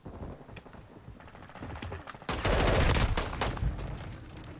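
Gunfire in the shooter game Modern Warfare II: scattered shots at first, then a loud burst of rapid automatic fire close by, fading into a few more trailing shots.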